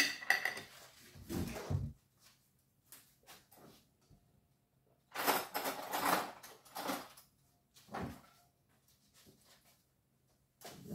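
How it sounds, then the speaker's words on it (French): A small spoon clinks and scrapes against dishes during a home meal with honey drizzled on top, in soft, scattered bursts separated by quiet pauses. "Alors, je vais prendre peut-être une petite cuillère."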